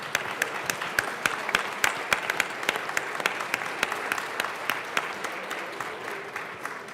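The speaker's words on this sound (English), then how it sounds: "Please join me in a round of applause." Applause fills the Colorado House chamber, steady clapping from many hands with a few sharp close claps standing out, fairly soft and even throughout.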